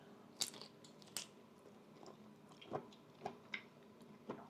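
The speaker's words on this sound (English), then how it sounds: "I think my chewing is making a lot of noises." Grilled BBQ shrimp cooked on a Yoder YS640S pellet cooker being chewed close to the mic, with a few sharp, crisp bites and softer wet chews spread over a few quiet seconds and no talking.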